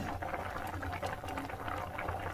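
Rice and milk payesh simmering in a pot produces a soft, continuous bubbling boil, faint and close, with no talking.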